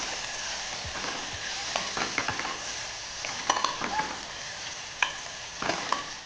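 A spoon stirs cluster bean and potato curry in a pressure cooker, scraping and clinking against the metal pot at intervals over a soft, steady sizzle.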